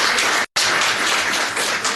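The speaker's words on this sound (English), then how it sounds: "we start this clapping every time" Audience applause at a county commissioners court meeting honoring Robert Carter Jr., a 20-year facilities management employee; steady, dense clapping fills the room, broken by one abrupt split-second gap.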